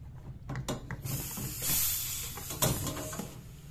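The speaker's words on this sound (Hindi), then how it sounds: "ये देखें आप यहाँ से गैस निकल रही है आवाज़ आती होगी आपको ये गैस निकल रही है" Refrigerant gas hisses steadily from a cut refrigerator pipe, a faint broadband rush mixed with low rumbling and small mechanical clicks, close by.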